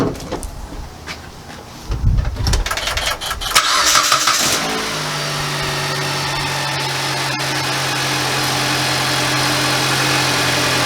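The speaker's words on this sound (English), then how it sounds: "I'm going to start the car up." A car engine cranks over for a couple of seconds, catches and then settles into a steady, even idle, heard up close with no talking. The car is being used to power an inverter during a power outage.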